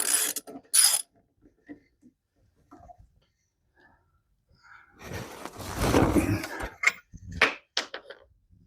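A hand crank tool turning to lower a vehicle's spare tire, giving bursts of ratcheting, mechanical clicking and grinding, close and fairly loud, with quiet gaps between turns.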